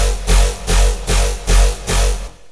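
A nasty, growling bass synth preset from a Serum preset pack plays alone in a steady pulsing rhythm, five loud, gritty, distorted notes with heavy low end, each swelling and cutting off, up close with no talking.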